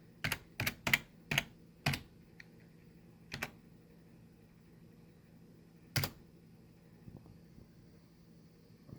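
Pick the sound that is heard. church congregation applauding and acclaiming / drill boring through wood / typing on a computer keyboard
typing on a computer keyboard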